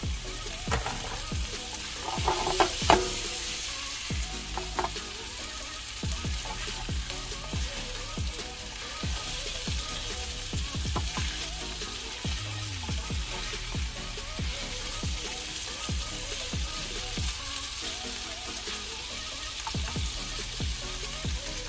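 Canned ackee frying and being stirred in a pan makes a continuous close sizzle with irregular scraping and clattering stir strokes, a louder clatter near the start, and no talk.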